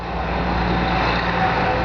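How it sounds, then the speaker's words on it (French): Steady roadside traffic rumble from passing cars and heavier vehicles, a continuous low drone with no clear individual pass-bys and no talk over it. "désolé pour les bruits de voiture et tout le tralala"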